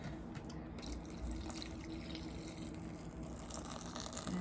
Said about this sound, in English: So now we're gonna just add a little bit of water.